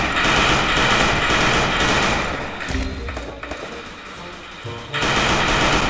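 Video game gunfire rattles in rapid bursts, loud and dense, easing into sparser shots midway before a heavy volley resumes at the end.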